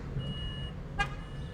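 A car horn gives one short, sharp honk midway, close and clear above a steady low road and engine hum.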